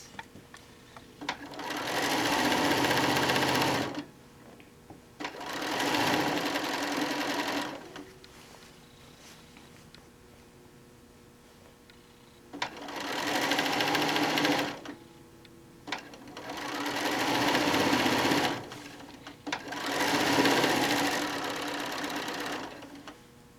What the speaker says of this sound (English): We're going to sew through your quilt tags.